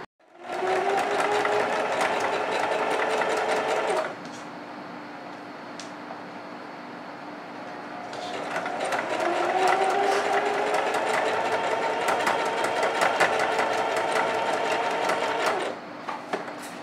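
Sewing machine running in two long bursts while stitching a seam on a girl's shorts-and-blouse outfit, steady close whirring with a quiet pause between runs and no talk.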